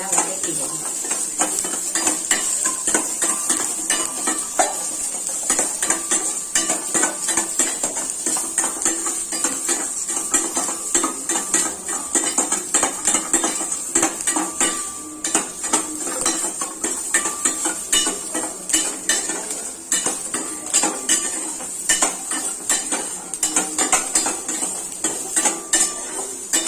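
Small onions are sautéed in a little oil in a pan for chicken gravy. A steady frying hiss runs the whole time under constant scraping and clinking of a spoon against the pan.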